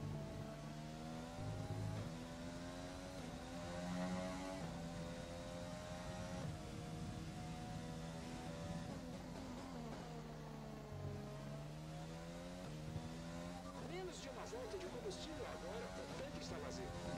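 Race car engine in F1 2020 droning steadily through a lap, with rising and falling pitch sweeps as gears shift up and the revs climb, continuous and fairly loud throughout, with a voice talking over it.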